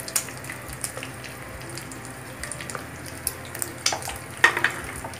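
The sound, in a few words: bay leaves and whole garam masala sizzling in hot oil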